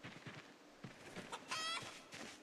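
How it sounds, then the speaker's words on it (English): Chickens cluck in a survival video game, a run of short, soft clucks and squawks at low level with one brief brighter call midway. "Oh, there's chickens here."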